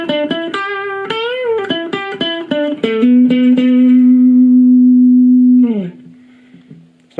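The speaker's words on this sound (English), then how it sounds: "play a little bit of lead guitar." Lead electric guitar through the clean channel of a Blackstar ID Core V3 amp: a run of picked single notes with a bend, then one long sustained note that rings steadily before sliding down and fading out, loud and alone.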